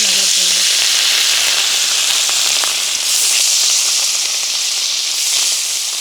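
Large Rui fish pieces coated in turmeric, salt and chilli frying in plenty of hot oil in a village kitchen, giving a loud, dense, continuous hiss and crackle heard close up without pause.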